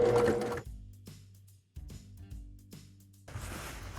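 Sewing machine stitching fabric for a triangular pouch, two short bursts of rapid mechanical hum separated by a brief pause, close and clear, framed by rustling fabric handling at the start and end.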